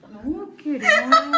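A person's voice imitates a hen's clucking cackle after laying, a short rising then stuttering call delivered loudly and close.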